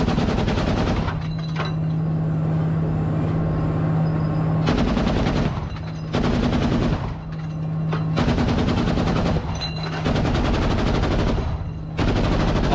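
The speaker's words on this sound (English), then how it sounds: "Now both of the guns are firing" Two machine guns firing together in long sustained bursts, loud and close, broken by short pauses between strings of rapid shots, with no talking over them.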